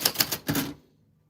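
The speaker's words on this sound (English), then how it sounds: "For fun and honestly, just for the enjoyment of sharing a vintage typewriter." Quick burst of keystrikes on a vintage typewriter, four or five sharp clacks in close succession followed by quiet, heard close up with no talking.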